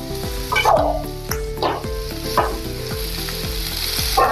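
Fried potatoes are stirred into onion masala for aloo do pyaza, giving a steady sizzle of frying under repeated rhythmic scrapes of a spoon against the pan, without speech.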